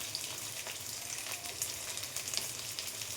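Potato pieces, browned for a boku fish curry, crackle and sizzle in a pan while being turned now and then, a dense, continuous fry noise at close range with small scraping ticks.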